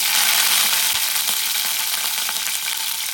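Green chilies sizzle and crackle in hot oil with cumin seeds, a steady close frying hiss with faint scattered pops and no talking.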